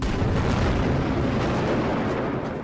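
A granite quarry explosion: a sustained, rumbling blast roars continuously for a few seconds, heavy and loud with broad low-frequency thunder and no voices.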